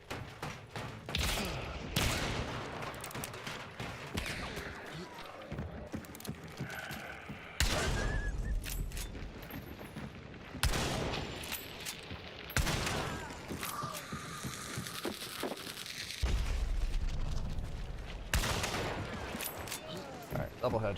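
Gunfire in a shooter video game, repeated sharp bursts and single shots scattered across the scene, some loud and close, others more distant, with a voice talking in between.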